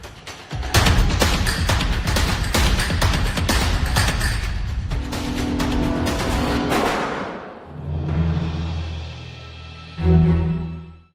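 A film shootout brings a rapid exchange of loud gunshots, dense volleys firing close together for several seconds, before it gives way to sustained tonal music and a final heavy boom.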